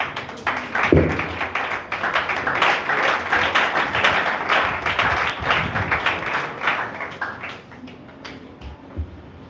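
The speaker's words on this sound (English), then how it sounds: "I know that clap is not for my head, Jody." Audience applause at a conference on the economic hardship and social impact of suicide, a dense, sustained patter of many hands clapping for about nine seconds before thinning out at the end.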